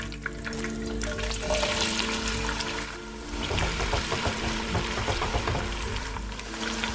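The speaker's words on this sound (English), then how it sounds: "So I'm going to be throwing in the sliced onion." Sliced onion frying in hot oil for a Nigerian ayamase stew, a loud continuous sizzle and crackle with a brief watery pouring swell in the middle, no talking.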